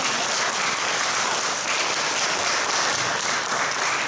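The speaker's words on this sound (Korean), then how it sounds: "이분들에게 박수 한 번 더 주셨으면 좋겠다 싶습니다" A church congregation gives sustained, dense applause for the singers who accompany the pastor in worship. The clapping is steady and full throughout, with no voices over it.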